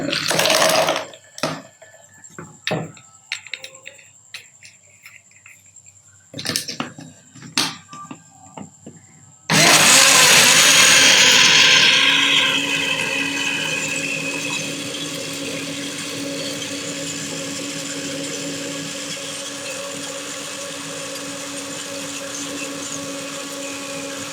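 A countertop blender whirs loud and steady, blending peaches, sugar, water and ice cubes, after a few short clicks and bumps; the motor starts abruptly and keeps a constant roaring drone to the end.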